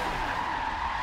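Tires squeal steadily on a Dirk Stratton Formula Drift Corvette, the DriftVette, in a racing video game as it spins up before the first turn, a continuous high screech over engine rumble, loud and unbroken.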